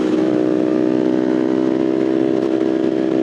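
A Kawasaki Ninja 650 motorcycle cruising on a highway gives a steady, loud engine drone with a constant pitch and heavy wind noise throughout, and nobody speaks.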